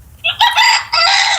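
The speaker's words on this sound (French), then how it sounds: "Regardez le coq même qui est en train de chanter." A rooster crows loudly and close by, one long strained call broken into several rising and sustained segments, with no talk over it.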